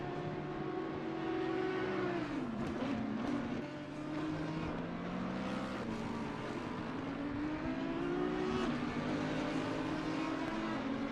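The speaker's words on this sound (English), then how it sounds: "I just heard a car drive by" A GT3 race car in the racing game Assetto Corsa Competizione, at the Kyalami circuit, drones steadily with engine pitch rising and falling through gear changes, continuous and fairly loud with no talking.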